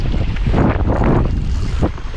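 Strong wind buffets the microphone out on open water from a canoe during a fishing trip, a loud continuous roar with gusting surges and wave wash, no speech.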